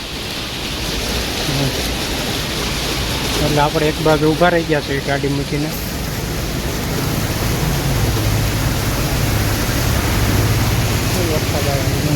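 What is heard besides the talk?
heavy rain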